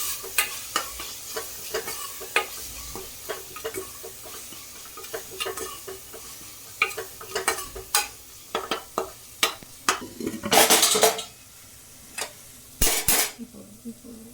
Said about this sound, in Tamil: இது எல்லாத்தையும் ஒரு தடவை கிளறி விட்டுடலாம்.